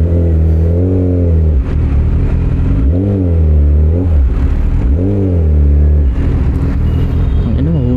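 A 1000cc motorcycle engine revs loudly and close, rising and falling in repeated throttle sweeps with a deep harmonic rumble, the rider's voice partly mixed in.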